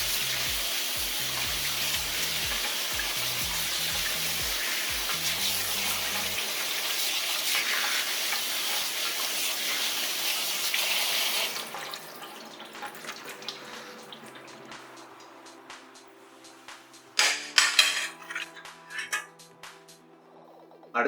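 Cold tap water runs over cooked spaghetti being rinsed, a steady splashing stream that stops partway through, followed by quieter handling and a few sharp clatters.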